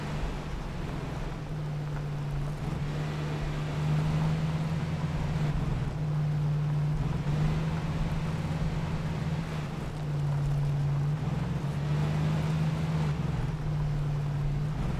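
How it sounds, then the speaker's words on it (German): A steady, labouring jeep engine drone in the game Arma 3 hums continuously with slight wavering pitch, loud and close, under a broad rushing noise. "Der Jeep hört sich an, als wenn jeden Moment der Motor explodiert."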